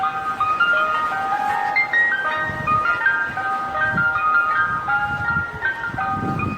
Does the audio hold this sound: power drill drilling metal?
no